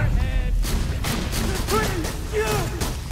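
Gunfire from the video game Borderlands 2 rattles in dense, loud bursts across a busy, noisy mix, with voices shouting and talking over the shooting throughout.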